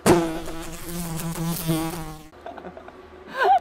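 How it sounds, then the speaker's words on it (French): A housefly buzzes loudly near the microphone, its drone wavering in pitch for a couple of seconds before dropping away, then briefly returning at the end. "T'as chassé une mouche là"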